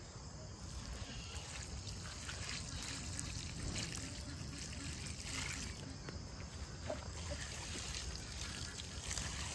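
Water trickles and splashes steadily as garden plants such as papaya and vegetable greens are watered outdoors, a soft continuous pour with insects chirping faintly in the background.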